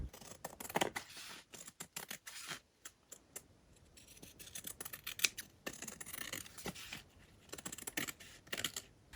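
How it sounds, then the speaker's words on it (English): Scissors cut through fabric glued onto paper in a run of crisp, close snips and rustles, irregular in rhythm and fairly quiet, with no talking. "It's always easier to cut fabric after you glue it to the paper."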